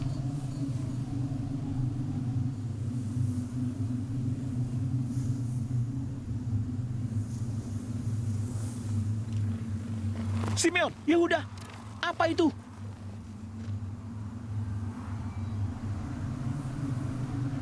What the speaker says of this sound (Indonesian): Itu badai. Kita harus berlindung.